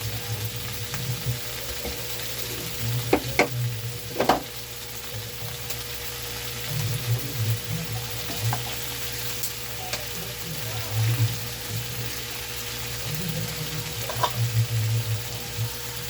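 Fish frying in a pan of hot oil, cooked on the way to a Filipino ginataang gulay: a steady, crackling sizzle runs throughout, with a few sharp clinks of a utensil against the pan near the start and end.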